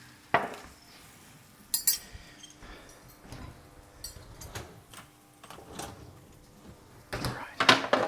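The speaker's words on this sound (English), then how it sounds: "A little bit of dishes while we don't have too much else to do." Dishes, cutlery and pots being washed in a home kitchen, with scattered clinks and clatters of metal and crockery rising from a quiet background, busier toward the end.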